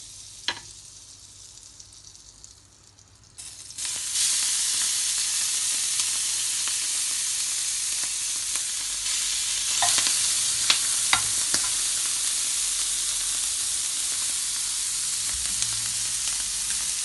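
Spices and other ingredients for party fried rice hit hot oil and break into a loud, steady sizzle up close. Occasional clinks of stirring sound over the frying, and nobody speaks.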